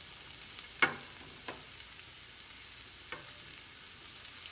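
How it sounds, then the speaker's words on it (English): A pan sauté for cauliflower risotto: soft, low sizzling with a few brief stirring scrapes and clinks, fairly quiet and without speech. "You want to saute it just a little bit to release the flavors."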